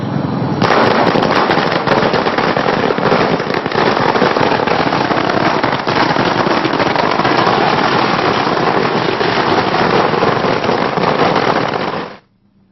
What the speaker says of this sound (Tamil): பட்டாசு வெடித்து தங்கள் மகிழ்ச்சியை வெளிப்படுத்தினர்